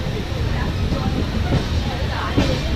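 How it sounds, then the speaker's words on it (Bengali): Tamralipta Express 12857 rolling slowly into Digha station, a steady low rumble of railcars with faint clatter and hiss throughout, sounding close and continuous as the train eases to its final stop. "ট্রেন স্লো এসেছে, তার মানে একদম লাস্ট দীঘা স্টেশনে আমরা চলে এসেছি"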